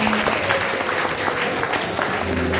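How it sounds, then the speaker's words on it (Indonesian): Audience at a closing coordination meeting applauding the data operators, a steady, dense round of clapping from a crowd, fairly loud throughout. "Kita beri tepuk tangan juga buat teman-teman"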